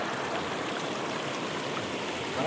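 River water flows past in a steady, close rushing wash, a continuous broadband hiss and gurgle with no voices over it.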